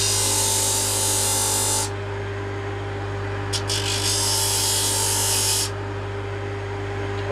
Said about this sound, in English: So I'm going to give myself a nice sanded square edge to work off.